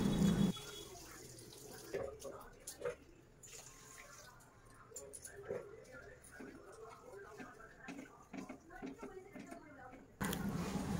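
Water poured into sugar in a home kitchen to make syrup for suji gulab jamun, a light splashing pour that runs for several seconds under moderate room noise.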